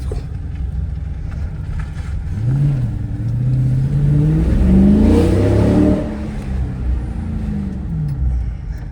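A Dodge Challenger Shaker Hood accelerates hard on a test drive, the engine climbing in a rising, sweeping roar that peaks and eases back into a deep, steady rumble heard from inside the car.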